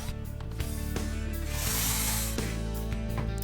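A power driver sets screws into wood to assemble a wall mount for a bench grinder, giving several whirring, ratcheting bursts separated by short pauses and heard up close.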